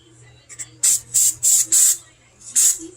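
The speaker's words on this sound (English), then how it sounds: "So I'm going to spray it a little." Short hissing bursts of spray primer on kitchen cabinets, about five in quick succession with brief gaps, then one more after a pause, close by.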